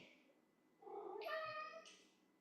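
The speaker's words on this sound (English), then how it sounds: "I don't know if you can hear my cat, but my cat is meowing." A cat meows once, a drawn-out rising and falling call, fairly faint against a quiet background.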